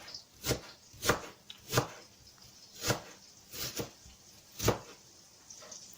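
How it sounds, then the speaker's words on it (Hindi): A large onion is chopped on a board, producing sharp, irregular knife thuds, about nine in six seconds, close and fairly quiet with no talking. "जो दूसरा ऑनियन है उसे भी हम लोग चॉप कर लेंगे"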